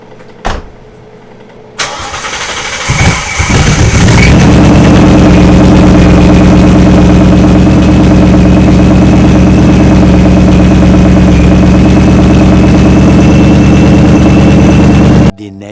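Ford Mustang GT fitted with a Camaro resonator cold-starting: a brief crank after a quiet lead-in, then a loud, steady rumbling idle held close for over ten seconds before it cuts off.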